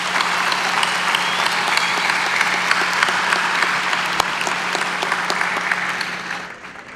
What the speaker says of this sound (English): Join me in a big round of applause for these people